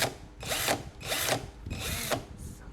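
A 20V cordless impact drill whirs in three bursts with brief pauses between, close and fairly loud, a rattling mechanical hammering inside each burst.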